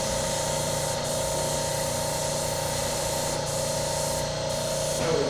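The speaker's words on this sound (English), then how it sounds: "I'm using the airbrush" An airbrush spraying ink onto scratchboard gives a close, steady hiss of compressed air with a faint motor hum underneath, running continuously with only slight dips in level.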